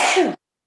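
A single sharp human sneeze bursts close and loud, lasting only a fraction of a second before cutting to silence.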